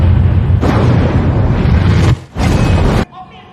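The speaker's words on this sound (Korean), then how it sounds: "곧이어 휘발유를 가득 실은 유조 트럭의 탱크가 폭발해버리고 맙니다." A gasoline tanker truck's tank explodes inside a tunnel in a film scene: a loud, sustained roaring blast that cuts out briefly, surges again, then drops to a low rumble.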